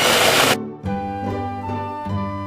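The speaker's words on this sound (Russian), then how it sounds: "Берем миксер, можете лопаточкой деревянной, как вам удобно. И перемешиваем хорошенько." Electric hand mixer beating eggs into choux pastry dough: a loud burst of whirring noise, then a steady droning motor hum that swells slightly as the beaters work, close and continuous.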